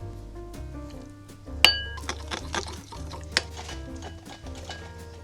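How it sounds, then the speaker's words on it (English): Water added from a teaspoon to icing sugar in a bowl for cookie icing, a few light clinks and taps of a spoon against glass with small liquid sounds, quiet and close, in an otherwise calm kitchen. "Then add a teaspoon of water."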